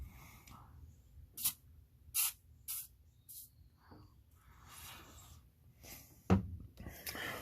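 Spray can hissing in short bursts while coil packs are installed on a 1999 Ford F-150 with a 4.6L engine, several brief quiet sprays amid faint handling noises.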